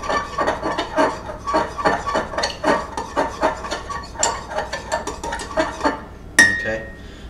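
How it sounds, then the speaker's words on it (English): Egg yolks, whole eggs and milk being stirred in a bowl for a microwave chocolate chip cookie, a utensil scraping and clinking against the dish in a quick steady rhythm, close and fairly loud, with a sharper clink near the end. "Stir that up."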